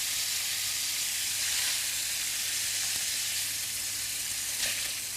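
Food garnish fries in a pan in a home kitchen with a steady, fairly quiet sizzling hiss that holds without a break, plus a faint clink near the end.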